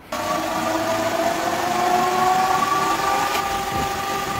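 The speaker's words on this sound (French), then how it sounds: "Là, je fais mon tir au banc. Bon, là, effectivement, le moteur 500 watts Bafang, c'est un missile" A Bafang 500 W e-bike motor spins on a test bench with a steady, loud mechanical whine and hum, constant level throughout with no voices.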